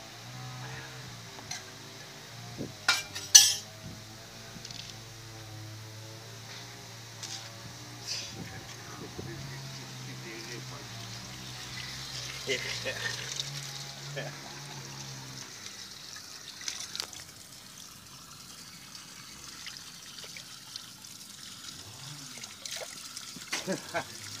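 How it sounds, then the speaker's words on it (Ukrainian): Water runs and trickles steadily from a tap, cold water, as dishes are washed, with occasional clinks and splashes, while people talk quietly in the background throughout. "стає мить посуду"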